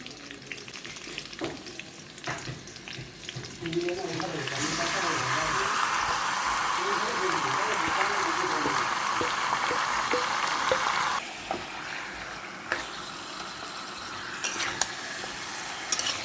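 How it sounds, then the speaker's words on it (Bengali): Marinated chicken drops into a pan of fried potatoes and a loud sizzle bursts up, holding steady for several seconds before easing, with stirring clinks and a person talking before and after. "এবারে আমি এর মধ্যে ম্যারিনেট করা মাংসটা দিয়ে দিচ্ছি"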